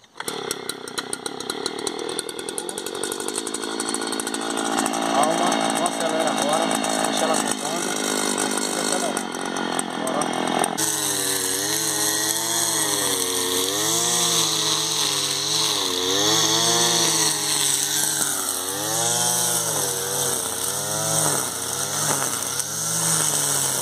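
A gas-powered grass brush cutter engine runs close and loud, its pitch rising and falling as the throttle revs in waves, with a voice speaking in places.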